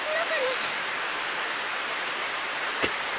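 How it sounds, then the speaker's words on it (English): Heavy rain pours down in a steady, dense hiss in the video game Steins;Gate 0, loud and unbroken throughout, with a brief faint tone near the start. "The rain's pouring down even harder."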